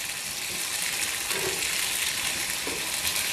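Ivy gourd (kovakkai) sautéing in a pan gives a continuous, fairly loud frying hiss with faint stirring scrapes and no talking.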